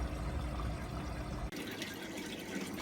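A washing machine filling with water and agitating while soup cooks inside, a steady close rushing gush of water that shifts abruptly midway to a brighter, splashier flow, with no talking.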